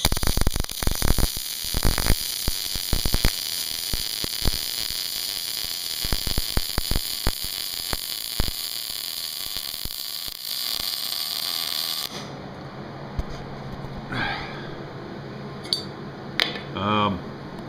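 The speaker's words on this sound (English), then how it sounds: "let's just go ahead and weld this out" A MIG welder lays a bead on a metal workpiece with a steady hissing crackle for about twelve seconds. It then stops abruptly, leaving a few faint clicks and clatter.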